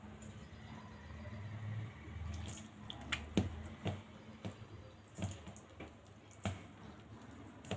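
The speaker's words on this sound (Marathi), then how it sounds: "आता यात मी पाणी घालते।" Water is added a little at a time to flour for soft methi thepla dough, giving scattered drips and wet squishing clicks over a quiet kitchen background.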